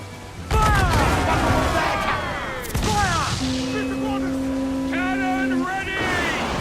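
Ship cannons fire at sea in Assassin's Creed Black Flag, loud booming blasts over crashing waves and rushing water, with shouted voices and a sustained tone layered through the battle noise.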